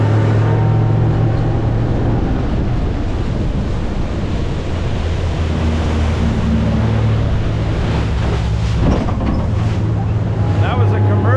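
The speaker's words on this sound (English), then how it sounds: "That was a commercial oyster boat." A commercial oyster boat passes on open water, its low engine drone steady under strong wind buffeting and wave wash, loud and continuous throughout.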